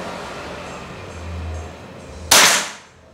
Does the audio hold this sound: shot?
yes